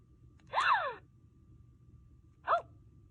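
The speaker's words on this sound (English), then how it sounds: "Like a gasping sound" A Trolls toy doll lets out two short electronic gasping sounds, a longer one followed after a pause by a brief second, close and clear over faint background hiss.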